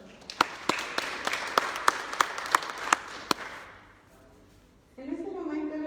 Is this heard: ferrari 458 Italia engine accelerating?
no